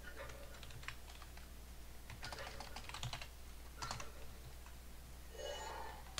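A cat steps and rests its head on a computer keyboard, producing scattered clusters of soft key clicks and taps, close but faint against a quiet room hum.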